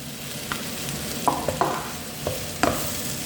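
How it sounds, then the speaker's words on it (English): Vegetables stir-fry in a hot pan with a continuous sizzle, broken by several sharp utensil scrapes and knocks against the pan. The sound is close and there is no talk. "it's all getting nice and cooking down there, my vegetables."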